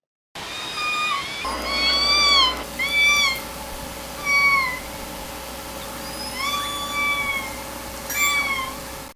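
K-pod southern resident orcas give a series of distinct, mewing, cat-like pulsed calls, about seven of them spaced a second or so apart, rising and falling over low underwater hum and background hiss.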